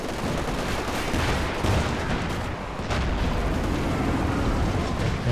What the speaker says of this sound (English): Still blasting away with that LFH